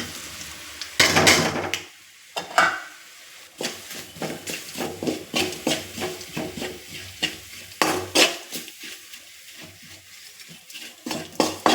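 A spoon scrapes and stirs masala through sizzling chopped onions in a pan with little oil, in irregular strokes with brief pauses, close by and without talk.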